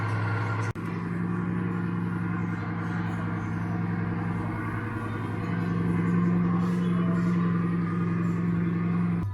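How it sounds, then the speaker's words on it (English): Engine sound played from a full-size Lego Bugatti Chiron at Legoland California, a loud, continuous deep droning rumble with a steady tonal hum, starting with a sharp click and holding unbroken for several seconds. "you can probably still hear the Chiron behind me because every time they push that engine thing, it's so loud"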